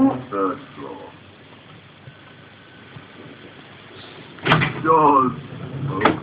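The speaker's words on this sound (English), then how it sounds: "Doors opening." Hotel elevator doors at the K West Hotel and Spa in London slide open with a short thud and rumble, close by, while a voice talks before and after the movement.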